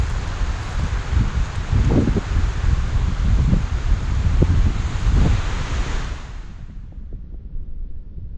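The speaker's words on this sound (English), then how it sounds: "that's the thing I hate about wind." Storm wind blowing through woodland trees at a mountain wild camp, a loud continuous roar and rustle with gusts swelling and easing, then dropping away sharply near the end.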